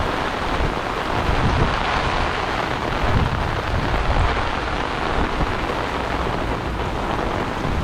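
Heavy tropical storm rain pours steadily in Jaco, Costa Rica, a dense, loud, unbroken wash of drops on surfaces with low rumbling underneath and no voices.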